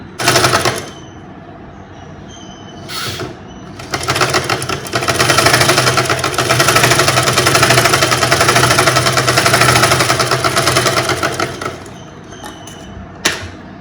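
A sewing machine stitches a lining top, running in a long rapid mechanical chatter that rises and holds steady, with short bursts and pauses before and after, loud and close, with no voices.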